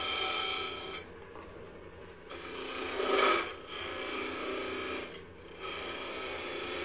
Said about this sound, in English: my lamp auger to drill a hole in it